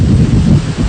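Strong wind from Super Typhoon Yolanda in the Philippines blasts into the microphone as a loud, constant, rumbling roar. Deep gusts swell and ease across the short stretch, with no talk over it.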